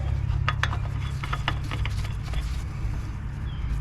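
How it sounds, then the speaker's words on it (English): Hand-tightening an oil filter on a 20 hp Briggs & Stratton Intek V-Twin engine of a John Deere L120 mower: soft, close rubbing and scraping twists over a low steady hum, with no talking. "Then we're going to go ahead and tighten up our filter."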